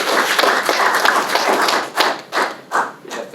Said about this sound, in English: Guys, let's give applause anyway to one of the greatest guys